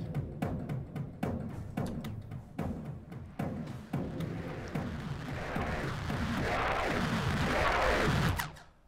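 A synth riser for a dramatic remix of a song from High School Musical 3 builds steadily over several seconds, its noisy upper tones swelling brighter and louder after a rhythmic opening, then cutting off at the end.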